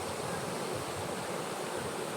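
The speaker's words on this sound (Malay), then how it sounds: "suasana sungai dia" River water flowing steadily, a continuous broadband rush like a stream over rocks, close and even throughout with no voices.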